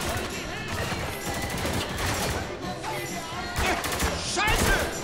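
Sustained gunfire rattles through a Spec Ops: The Line firefight, dense overlapping bursts and shots continuing throughout with voices speaking over the shooting.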